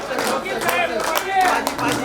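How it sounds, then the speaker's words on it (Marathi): Applause for award recipients at a staff gathering of the Bhiwandi bus depot breaks out as a continuous crowd clapping, fairly close and loud, with voices mixed in. "अवॉर्डांसाठी टाळ्या होता."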